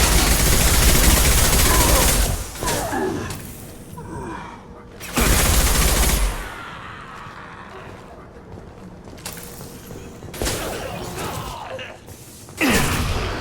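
Bursts of gunfire in a Mass Effect 2 firefight, two loud sustained volleys a few seconds apart followed by quieter scattered shots and a final burst.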